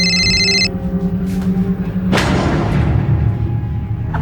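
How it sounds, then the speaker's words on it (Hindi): A telephone rings loudly at the start with an electronic trill, cut short, followed by a heavy thud and low rumbling. "जा बेटा फोन उठा।"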